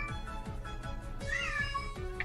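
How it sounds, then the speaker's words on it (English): A cat meows once, a drawn-out rising and falling call over a low, steady background noise with faint repeated thumps. "Kitty cat."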